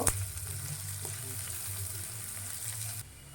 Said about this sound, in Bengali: পেঁয়াজ কুচি এটাকে আমি একটু ভেজে নেব